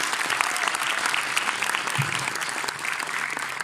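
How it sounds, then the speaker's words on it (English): Lecture audience applauding steadily, a dense, continuous clatter of many hands at moderate loudness with a brief low thump near the middle and no voices over it. "Give yourself a warm welcome applause."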